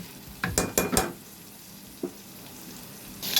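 Chunks of pumpkin, potato and Malabar spinach stalks are stirred in a frying pan, giving a sizzle with a quick burst of clattering scrapes near the start, then a lone knock and a quieter hiss.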